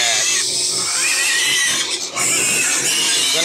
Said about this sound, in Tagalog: May mga piglets pa dito.